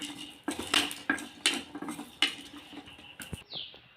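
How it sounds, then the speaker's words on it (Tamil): Pepper, cumin and garlic dry roasted in a pan without oil, heard as a run of close scraping and clinking strokes from a spatula against the metal, irregular and fairly loud, with no talk. "எண்ணெய்லாம் ஊற்றாமல் வெறுமனே இப்படி நல்லா வறுத்துக்கலாம்"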